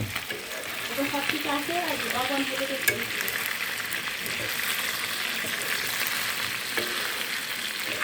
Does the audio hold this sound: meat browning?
yes